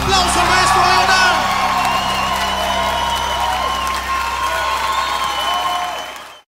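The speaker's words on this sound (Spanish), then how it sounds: "¡Aplauso al maestro Leonard!" Audience applause and whoops for maestro Leonard at a live concert, loud at first and gradually fading over several seconds amid crowd shouts and a speaking voice.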